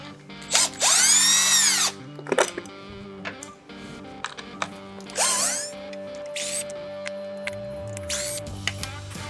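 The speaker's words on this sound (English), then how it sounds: "First thing we want to do is take this cover off, so I'm going to use a 5mm Allen to do that." A power driver with a 5 mm Allen bit backs out the clutch cover bolts on a CSC RX4 motorcycle. Several loud, close bursts of rising and falling whine are separated by clicks and clinks of loose bolts and tools.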